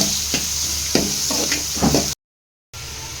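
Fish frying in oil in a nonstick pan, a steady close sizzle with a few soft knocks and stirring scrapes, cut by a short silent gap before the sizzle returns.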